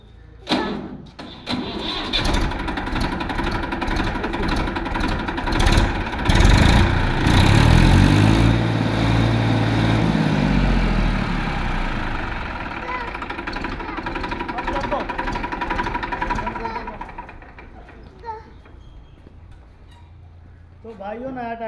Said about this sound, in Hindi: ट्रैक्टर बिल्कुल नया ट्रैक्टर, नए की कंडीशन है जो भी। स्टार्ट कर दो एक बार।